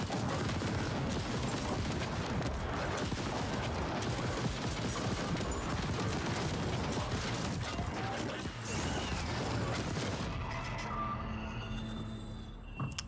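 Sniper fire and mechanical weapon clatter from The Ascent's Cyber Heist DLC, a dense, continuous stream of game combat noise at moderate level that thins out near the end, with no clear talking.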